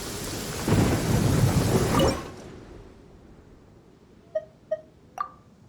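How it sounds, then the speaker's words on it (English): Thunderstorm with heavy rain in the Genshin Impact video game: a loud rolling thunder rumble over steady rain fades into quieter rainfall, followed by three short chime-like tones. "Taking a stroll in the middle of a downpour certainly rouses the..."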